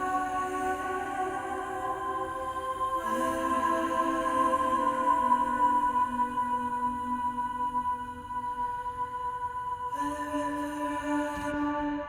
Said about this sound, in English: And I also have these two sweet flute pads doing a little bit going into that transition.